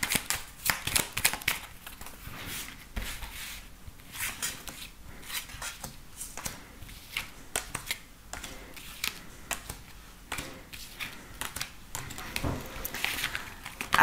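Tarot cards being shuffled for a reading, a run of soft papery riffles and flicks repeating irregularly throughout, close and fairly quiet, with no talking.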